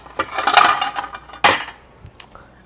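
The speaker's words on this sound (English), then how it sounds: "we're going to grab a plate" A plate is grabbed from a stack of dishes, giving close ceramic clinks and clatter, one busy burst followed by a sharp knock and a few lighter taps, with no voices.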